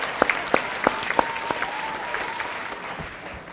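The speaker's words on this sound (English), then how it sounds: "A round of applause to our contestants." Audience applause for contestants at a school quiz competition, a crisp burst of clapping with a few loud individual claps up front, settling into a softer patter that tapers off.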